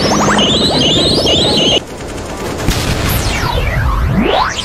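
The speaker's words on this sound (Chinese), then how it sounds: "一阵强烈的爆炸声响起" A powerful rocket-launcher blast rips loose in a dramatized monster battle, a loud dense roar of crashing debris and sweeping whistles that fills the clip with no talk.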